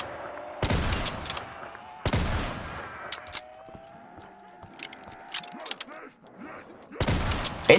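Gunfire in a Minecraft version of Call of Duty Zombies, Nacht Der Untoten: several loud sharp shots and short bursts spaced across the clip, with fainter game sounds and tones between them.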